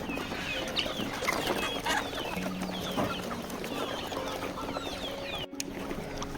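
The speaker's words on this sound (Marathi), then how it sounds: "आपल्या कोंबड्या कशा मातीमधून खात असतात" A flock of chickens pecking feed from the soil, with a steady mix of clucks and short calls under a constant background hum at moderate loudness and no talking.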